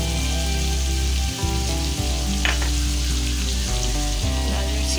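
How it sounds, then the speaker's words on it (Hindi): Mutton liver frying in a pan for dhaba-style kaleji masala, a dense steady sizzle close up and fairly loud, with a couple of faint clinks. "यहाँ पे हमारी कलेजी देखिए अच्छी फ्राई हो रही है।"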